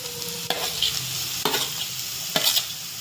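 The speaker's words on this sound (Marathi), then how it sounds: "कांदा टोमॅटो भाजले" Onion, tomato and ginger-garlic paste frying for pav bhaji, a constant sizzle broken by three sharp spoon strikes against the pan, roughly one second apart.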